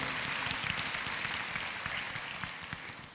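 A congregation clapping during a church service, steady and fairly quiet applause with no speech.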